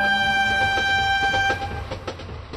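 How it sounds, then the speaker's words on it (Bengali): A cartoon train whistle sounds before departure, a sustained, bright, multi-toned tone that holds for about a second and a half over rumbling rail noise. Clanking and a softer hiss follow as it cuts off. "ট্রেনের হুইসেলের শব্দ শোনা গেল, তার মানে ট্রেন এক্ষুনি ছাড়বে"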